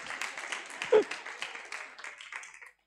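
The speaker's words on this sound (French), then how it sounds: "vous pouvez applaudir" Congregation applause during a sermon, a moderate patter of many hands with a voice briefly rising over it before the clapping fades to silence.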